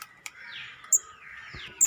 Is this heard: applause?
no